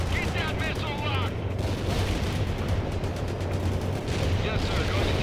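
Sustained artillery barrage in the strategy game World in Conflict, a dense, continuous roar of distant blasts and crackling fire with no pauses, with a radio-style voice briefly heard over the rumble.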